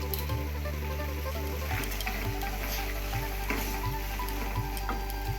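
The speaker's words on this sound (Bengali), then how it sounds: "এবার মশলাটা সব একসঙ্গে কষে নেব।" Masala spices being fried together in a pan for a Bengali dish, giving a steady close sizzle with occasional soft stirring scrapes and a low background hum, no voices.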